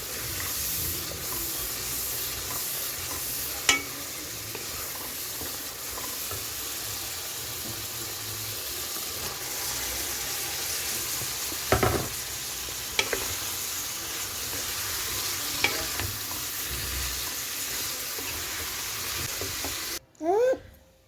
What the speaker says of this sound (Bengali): লাউ শাকের জন্য চিংড়ি মাছ ভুনা করে নিতেছি প্রথম মশলার ভিতরে দিয়ে এখন হচ্ছে সিদ্ধ করা লাউ শাক দিয়ে দেবো চিংড়ি মাছের ভিতরে